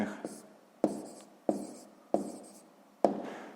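Numbers are handwritten during a sixth-grade maths exercise, with five sharp pen taps as each figure is put down, each one trailing into a soft scratch. A voice speaks quietly between the strokes.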